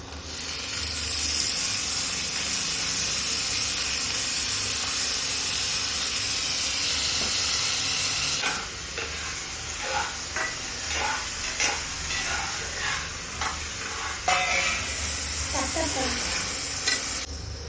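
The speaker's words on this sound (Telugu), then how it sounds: "ఫస్ట్ కొంచెం ఆయిల్ వేయాలి ఆయిల్ వేయక పచ్చిమిర్చి ఆనియన్స్ వేసుకోవాలి" Green chilies and onions frying in oil for chicken liver fry, a loud steady sizzle and hiss up close, shifting partway through to stirring with repeated scrapes and crackles over the continuing spatter.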